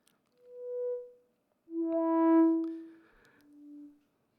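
A Mother synthesizer playing a heavily filtered 8-step sequence from a single mono voice. Soft, isolated tones rise and fade one after another in a quiet space, with some sounding brighter and buzzier than others.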